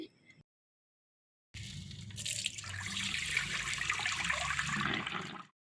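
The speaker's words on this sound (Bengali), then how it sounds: "অনেকবার করে ধুয়ে নিচ্ছি" Lentils being washed repeatedly in water in a home kitchen: after a short burst and a pause, a loud, close run of splashing and pouring water fills the rest, with no talk.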